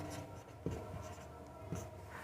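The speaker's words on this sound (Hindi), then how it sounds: "अब यहाँ लिखेंगे" Marker or chalk writing on a board during a Class 10 maths lesson, a steady scratchy scrawl with two sharper taps where strokes begin, over a faint hum of room noise.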